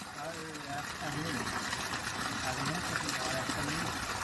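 Water gushing hard from a 5 HP solar pump: a steady, loud, continuous rush with no break, and voices talking underneath.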